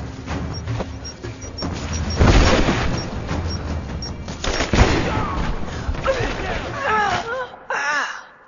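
A grenade explosion and gunfire in Rise of the Tomb Raider, with bursts of rapid shots, a sharp booming blast, and crashing debris, followed by gasping and strained vocal sounds near the end.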